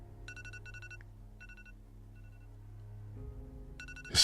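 A phone alarm chimes in short, bright repeating bursts of beeping tones, faint and fairly near, pausing briefly between groups over a low steady hum before sounding loudly again at the end.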